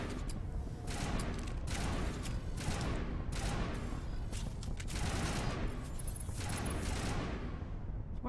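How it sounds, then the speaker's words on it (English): Sustained rapid gunfire crackles through a Mass Effect firefight, dense overlapping bursts rolling continuously and loudly for several seconds with no pauses, no voices over it. "What the fuck are they shooting at?"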